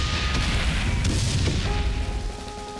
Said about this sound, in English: All of the artillery shells